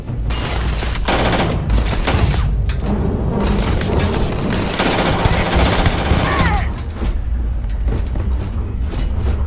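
Gunfire from the Starfield video game rattles loud and nonstop, rapid automatic bursts and booms blending with creaking mechanical noise throughout.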